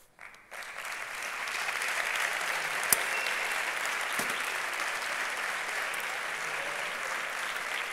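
An audience at a conference talk in Murcia, Spain breaks into sustained applause, steady clapping from a large crowd that starts abruptly and continues without letting up.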